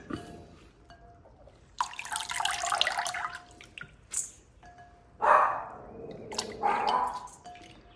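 Water pours and splashes in bursts as soaked ragi vermicelli is lifted and drained, with dripping between the louder gushes; no speech.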